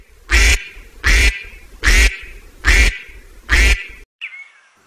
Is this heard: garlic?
no